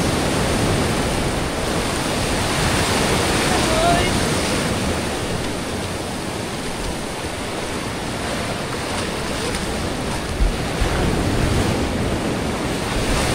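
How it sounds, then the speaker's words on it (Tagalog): Powerful sea surf roars continuously, a dense wash of crashing waves close by, with wind noise layered over it throughout. "Grabe, ang lakas ng alon"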